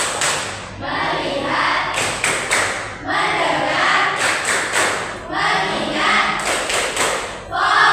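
A class of eighth-grade students performs a rhythmic group clap during a classroom ice-breaker, with sharp bursts of claps spaced a few seconds apart between loud unison chanting.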